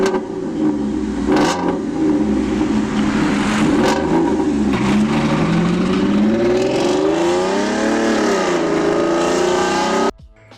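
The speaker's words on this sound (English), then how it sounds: "we had 6 liter W12 that generated 450 brake horsepower and 600 Nm of torque" A Volkswagen Touareg with a 6-litre W12 engine rated at 450 horsepower revs loudly and steadily for about ten seconds. The pitch sweeps up and down through several rises, then the sound cuts off abruptly near the end.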